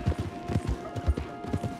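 Horse hooves clip-clop in a steady, quick rhythm along a trail in the Red Dead Redemption 2 video game, close and moderately loud, with no talking over them.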